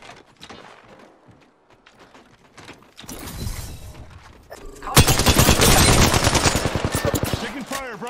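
Apex Legends gunfire in third-person mode, sparse clicks and mechanical sounds giving way to a burst of shots, then loud, rapid, sustained automatic fire that dominates the second half.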